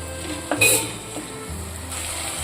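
Ginger garlic paste hitting hot oil in a pan with gongura, a sizzle that swells briefly then settles into a steady fry, with some stirring and utensil scrapes close by.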